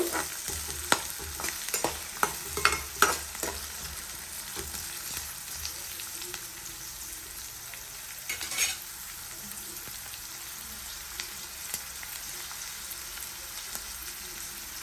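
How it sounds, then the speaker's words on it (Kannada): Egg curry base of chilli and other ingredients frying in a pan while being stirred, a steady close sizzle with clusters of scraping utensil strokes early on and a few later, no voices. "ಈ ಮೂರನ್ನು ಸೇರಿ ಚೆನ್ನಾಗಿ ಹುರ್ಕೋಬೇಕು"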